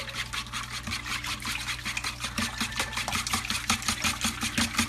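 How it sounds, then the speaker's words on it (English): Whisk beating butter into a cinnamon cake batter in a bowl, a fast continuous rhythmic scraping and clicking of wire against the bowl, close and steady. "I'm going to take a whisk, just going to whisk that together"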